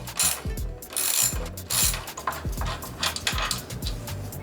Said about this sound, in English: you're gonna need a 15mm socket and a 14mm wrench. The wrench is to hold the nut in place while you remove the bolt.